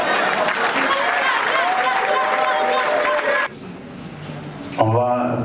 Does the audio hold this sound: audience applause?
yes